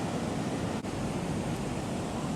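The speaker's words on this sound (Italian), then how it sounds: "la battigia sembra scomparsa sotto la forza della mareggiata" Storm-surge waves pound Mondello beach in Palermo, a dense, continuous roar of crashing surf with heavy wind noise, loud and close throughout with no voices.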